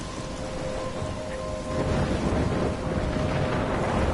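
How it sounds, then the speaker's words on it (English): A storm in the video game Life is Strange, with steady heavy rain and rumbling thunder filling the scene, wind noise roaring and swelling louder toward the end, no voices. "I'm trapped in a storm?"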